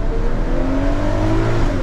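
Ferrari 12Cilindri naturally aspirated V12 engine revving, a loud, sustained high-pitched wail with rising harmonic tones heard from inside the car, continuous for the whole short stretch.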